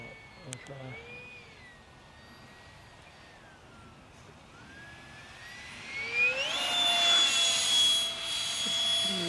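A Flite Test RC F-22 model jet with a 70 mm electric ducted fan on 4S power whooshes past, its whine rising from faint and distant to loud and close with a sweeping pitch, while people talk outdoors.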